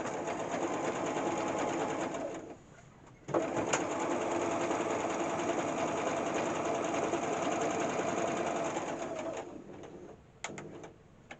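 A sewing machine stitches a flat felled seam in fabric, a steady fast mechanical whir running for several seconds, pausing briefly, then resuming before stopping with a few last clicks.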